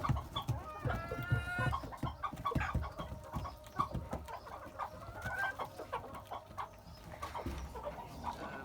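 Golden Zibrit chickens cluck in a coop, a moderately quiet mix of short clucks and fowl calls scattered irregularly across the whole stretch, with one higher call near the start.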